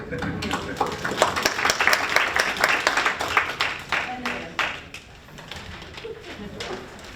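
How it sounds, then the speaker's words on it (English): Applause at a community advisory committee meeting: scattered clapping from a small room of people that runs for about four seconds and then thins out, with voices talking underneath. "I think we all should applaud that."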